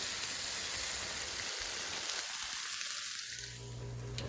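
Slices of Gouda French toast frying in a pan give off a steady, close sizzle that hisses continuously throughout, softening slightly near the end as they are flipped to cook the other side.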